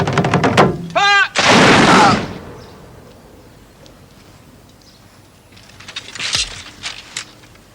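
Firing squad volley of musket gunshots in a period war drama, sounding as a loud sharp burst that rolls into a long echoing crash, followed by quieter scattered sounds and faint voices.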